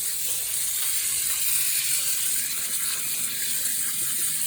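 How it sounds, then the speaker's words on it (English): Cold tap water runs over lentils in a pot being rinsed for sprouting, making a steady, bright hiss and splash that holds evenly throughout, close by with no talking. "just run the cold water on them"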